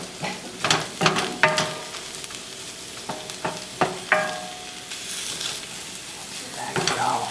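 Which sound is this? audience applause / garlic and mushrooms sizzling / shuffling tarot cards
garlic and mushrooms sizzling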